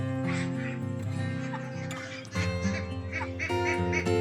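Ducks in a free-range outdoor meat-duck pen quack steadily and loudly throughout, a dense overlapping chorus of calls from a flock close by, with no talk.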